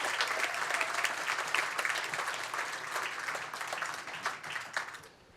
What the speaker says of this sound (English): let's give our finalists one more round of applause here for an unbelievable finish